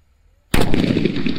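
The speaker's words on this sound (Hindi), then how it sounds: "ये बिग साइज का सुतली बम ये कैसा धमाका करता है" A big-size sutli bomb firecracker explodes with one sudden loud blast after near silence, followed by a sustained roaring, crackling rumble that stays dense and loud to the end.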